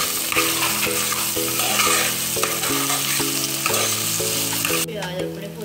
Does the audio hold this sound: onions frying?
yes